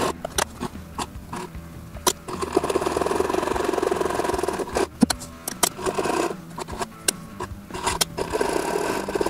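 A sewing machine stitches fabric onto the pouch flap of a Batman cosplay utility belt, whirring runs broken by short pauses and sharp clicks, close and moderately loud with no speech.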